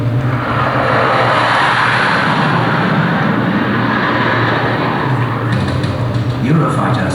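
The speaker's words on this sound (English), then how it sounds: "The pilots break away hard, taking advantage of Eurofighter's incomparable supersonic agility." Eurofighter jet aircraft flying, a loud continuous roaring engine rush that holds steady for several seconds and shifts slightly near the end, heard alone without talking.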